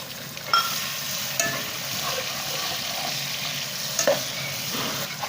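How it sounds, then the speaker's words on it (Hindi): Small chicken pieces fry in a pan for a macaroni dish with a steady, close sizzle, punctuated by a few sharp clinks of a spoon against the pan. "अब हम इसके अंदर डालेंगे चिकन जो मैंने बारीक बोटियों की शक्ल में हम इसको कट कर लिया था। अब वो इसके अंदर डालेंगे और इसको हम फ्राई करेंगे।"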